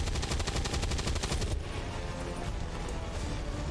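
Rapid automatic gunfire rattles in a steady rhythmic burst in XCOM 2, then gives way to a dense, noisy rumble of continued shooting and impacts, loud throughout.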